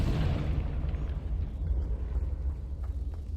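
Loud fiery blast from the Confringo spell in Hogwarts Legacy, a sustained booming burst with heavy low rumble that fills the moment, with no talk over it.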